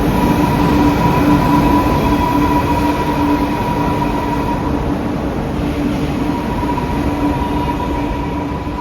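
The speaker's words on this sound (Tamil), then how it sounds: "அந்த ட்ரெயின் போக போகுது எவ்வளோ ஃபாஸ்ட்டாக போகுது பார்த்தீங்களா" A train rushes past at speed, a loud continuous roar of rolling wheels with a faint steady whine, close and unbroken.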